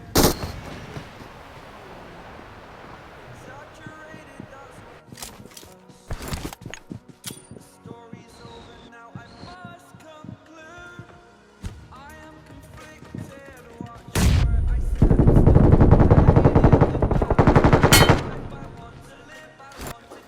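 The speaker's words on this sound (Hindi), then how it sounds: "उतने मेरे को सामने वाले घर पे से फायर आती है।" Gunfire and machine-gun bursts from the mobile battle-royale game BGMI: scattered sharp shots early, then a dense, loud sustained burst of automatic fire, with game sounds in between.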